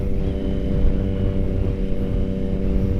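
A 2022 Triumph Tiger 900 motorcycle cruising at high speed in a low gear, giving a steady, loud engine drone with an even hum and a constant rush of wind.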